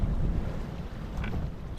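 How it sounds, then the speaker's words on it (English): Steady wind of about 10 to 15 knots buffets the microphone aboard a sailboat near Mobjack Bay, a dense low rumble with water wash underneath, continuous and close. "The winds have settled down pretty steady"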